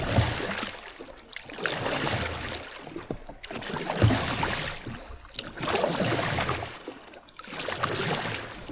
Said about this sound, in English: see what it would be like to try and paddle a Sea-Doo